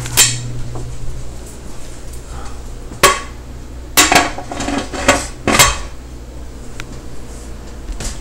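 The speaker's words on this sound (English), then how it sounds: "And we take these over here and we stick them in the canner. Now we stick the lid on the canner." Glass canning jars set into a metal canner, then the canner lid put on: a series of sharp clinks and clanks, loudest around the middle and the later part, over a steady low hum, with no talking.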